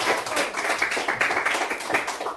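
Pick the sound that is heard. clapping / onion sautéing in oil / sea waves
clapping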